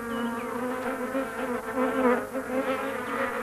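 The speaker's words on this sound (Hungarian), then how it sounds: "A méhek a kék papír fölött szállnak le, ahol eddig mindig cukoroldat várta őket." Honeybees buzz steadily as they fly about and settle over a blue paper that has usually held sugar solution, a close, continuous drone with small swells in loudness and no voices.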